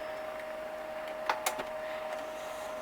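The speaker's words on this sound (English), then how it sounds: "Let's actually just do a printer test page just so you can see what it looks like when it's totally good." A Lexmark Optra E312L laser printer runs a test page: a steady mechanical hum with a constant whine underneath and a few brief clicks partway through, close and moderately loud.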